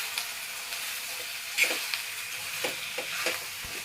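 Methi palak paneer stirred in a frying pan, soft sizzling with a few scraping stir strokes, close and fairly quiet, no talking.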